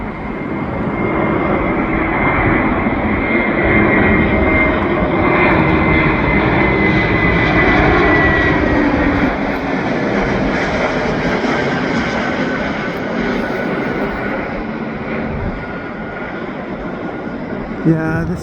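Airliner on approach to land near a rail line, a loud steady jet engine roar that swells and holds throughout, with people talking faintly underneath.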